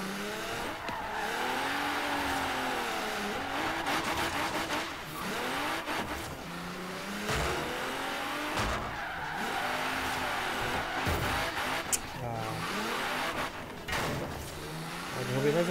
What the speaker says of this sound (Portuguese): Barulho top desse carro